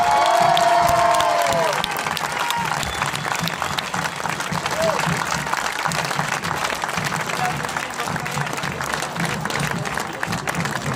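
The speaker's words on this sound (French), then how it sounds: "Applaudissements, s'il vous plaît, pour Antoine Guillon." A crowd at the finish area of the Grand Raid de la Réunion ultra race applauds and cheers a runner, sustained clapping with whoops and shouts after an announcer's voice at the start.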